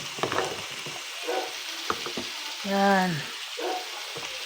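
Ampalaya (bitter gourd) stir-frying in a pan, a close, steady sizzle with clinks and scrapes of stirring, while someone speaks briefly over it.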